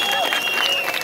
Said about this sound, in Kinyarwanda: amashyi menshi kuri Dr.